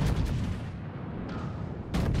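Ship artillery salvos firing in World of Warships, with the Scharnhorst shooting toward an Emerald in a naval battle: dense rumbling booms sustained throughout, with sharp bursts near the start and again near the end, loud and without talk.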